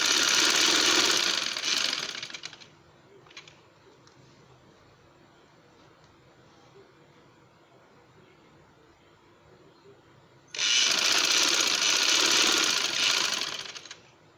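Sewing machine stitching along the curved back neckline of a shirt, a fast, even mechanical buzz in two loud bursts separated by about eight seconds of quiet room noise.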